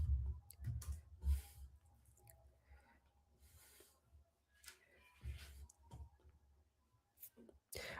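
Sporadic computer mouse clicks, a few sharp taps scattered irregularly through quiet, with soft speech-like sounds and rustling in between.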